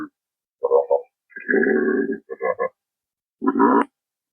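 A human voice imitates a giraffe with a series of short, guttural croaking grunts, several separate bursts with silence between, close and loud.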